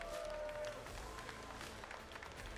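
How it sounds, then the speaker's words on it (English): A crowd at a mixed martial arts event applauds the two fighters, broad continuous clapping and crowd noise at a moderate, fairly distant level. "Ladies and gentlemen, let's give these two warriors a big round of applause."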